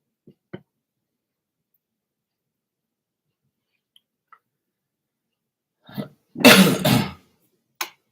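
A single close, harsh cough bursts out after a few faint clicks and a short vocal sound, followed by a small sharp noise.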